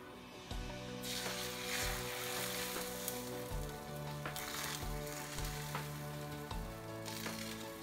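Beaten eggs for an omelette sizzling loudly in oil in a frying pan, a steady crackling fry with occasional small bursts, close and continuous with no talking.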